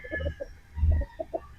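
A Boston Roundhead gamefowl with a straight comb clucks in a few short bursts, close and fairly clear, with a stronger low-pitched burst midway.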